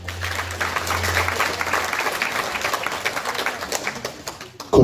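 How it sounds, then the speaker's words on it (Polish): Applause at an awards gala, a dense, steady patter of many hands clapping from a crowd, with a low hum at the start and a loud thump at the very end. "Prosimy o brawa."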